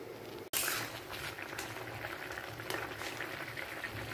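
Vegetables and potatoes for a fish curry boil in a pot nearby, a continuous bubbling hiss after a brief knock at the start.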